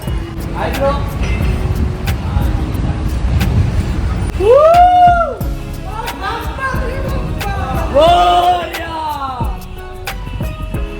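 A newly bought family car gets underway, with a low engine rumble and road noise beneath loud, overlapping talk, and rising whistle-like tones recurring near the middle.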